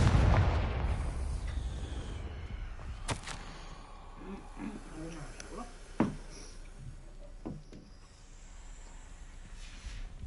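Confringo fire spell blasts in the Hogwarts Legacy video game on PS5: a sharp burst and a few booming explosive impacts over a rumbling in-game ambience, with a player's voice heard early on.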